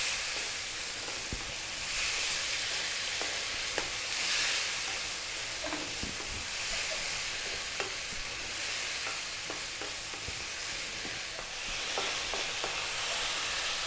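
Chicken pieces stir-frying in a pan over high heat, a dense continuous sizzle with frequent scraping taps from stirring, close and steady throughout.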